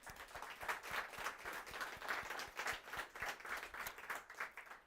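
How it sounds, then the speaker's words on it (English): A conference audience claps in a steady, distinct patter, individual hand claps clearly separated, heard faintly and from a distance. "Let's give them a round of applause, please."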